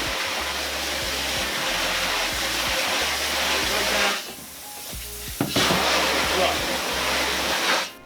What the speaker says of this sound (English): rinse the front, and then the back